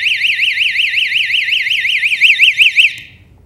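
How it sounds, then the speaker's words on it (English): A Knob Sentry doorknob security alarm, set off when the knob is touched, sounds a loud, rapidly warbling electronic siren that cycles steadily for about three seconds and then cuts off. "I barely touched that doorknob and you heard the alarm go off"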